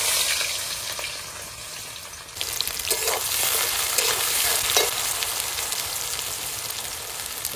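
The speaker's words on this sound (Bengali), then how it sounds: "এবার তেলের মধ্যে দিয়ে দেবো গোটা গরম মশলা, দারচিনি, এলাচ, লবঙ্গ, গোটা জিরে" Whole garam masala spices — cinnamon, cardamom, cloves, cumin seeds — and chopped onion hit hot oil in a village kitchen, bursting into a loud, dense sizzle that swells after a quieter start and keeps crackling steadily, with stirring scrapes.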